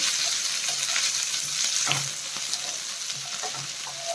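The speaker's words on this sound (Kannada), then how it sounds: "ತೊಳೆದಿಟ್ಟಿರೋಂಥ ಪುದೀನ ಕೊತ್ತಂಬರಿ ಸೊಪ್ಪು ಇದನ್ನೆಲ್ಲ ಚೆನ್ನಾಗಿ ಫ್ರೈ ಮಾಡ್ಕೋಬೇಕು" Washed mint and coriander leaves sizzle and crackle loudly in a hot pan while being stirred, cooked for chicken chops. The frying hiss is continuous, with occasional scraping stir strokes.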